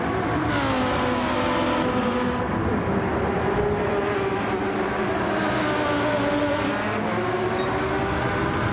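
Race car engine from a sim racing game at Road Atlanta, a steady loud drone that rises and falls in pitch as the car accelerates and shifts, continuous with no talk over it.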